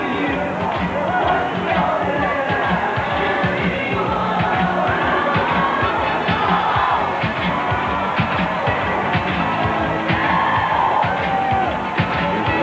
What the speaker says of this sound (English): The crowd is growing bigger by the second.